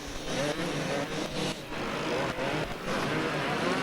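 Kawasaki racing motorcycle at a 1992 beach race on sand, engine droning loud and steady with crowd-like noise and slight rises in pitch throughout, no clear pauses.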